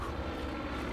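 Helicopter in the video game Far Cry 5, a low, steady rotor and engine drone filling the background at constant loudness throughout.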